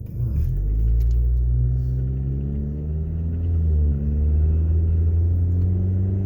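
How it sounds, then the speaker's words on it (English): A low, steady engine rumble drones throughout with a mild swell in pitch, loud and close, with no voices. "there's that loud noise coming from the motor itself"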